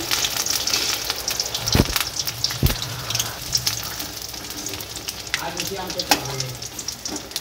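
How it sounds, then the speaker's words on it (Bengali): Onion fritters (peyaji) fry in oil with a loud, steady, crackling sizzle, broken by a few sharp clanks of a utensil against the pan. "পেঁয়াজিটা ভাজা হলেই রান্নাবান্না কমপ্লিট"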